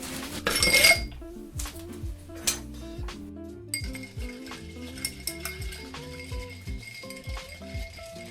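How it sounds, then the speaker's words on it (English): A rye Sazerac cocktail is stirred with ice in a mixing glass, giving a busy run of clinks and rattles from ice knocking against glass and a bar spoon, close up and with no talk. "we'll stir this guy up with some ice"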